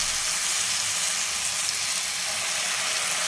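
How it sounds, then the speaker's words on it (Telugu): Sprouted moong dal batter fries in hot oil, giving a steady, even sizzle and crackle that runs unbroken throughout, close by and with no voices. "నూనె బాగా కాగిన తర్వాత ఈ పెసర పిండిని చక్కగా వేసుకోవాలి."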